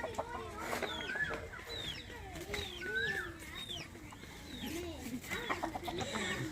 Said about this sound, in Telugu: మన దగ్గర ఉన్న కోడిపెట్టలు అయితే ఇవి, అన్నీ కోడిపెట్టలు పుంజులు.